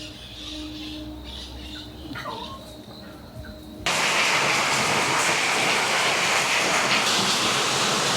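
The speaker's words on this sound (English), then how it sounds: "it's raining very hard today." Heavy wet-season rain in Costa Rica suddenly swells into a dense, roaring downpour, continuous and loud after a quieter start with faint birds in the background.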